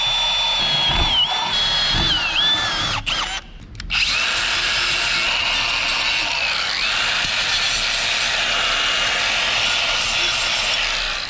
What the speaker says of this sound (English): We'll drill those out.